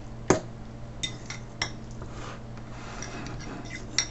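A utensil stirring spaghetti squash and meatballs in a pan, a few sharp metallic clinks and taps spaced out over a quiet background, close and soft.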